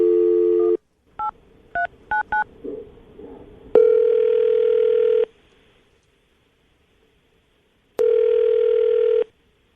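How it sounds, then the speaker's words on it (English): A telephone dials a number: a steady dial tone, then a quick run of short keypad tones, followed by two longer ringback tones separated by silence. "I'm going to dial the phone number, see if we can get her on the phone"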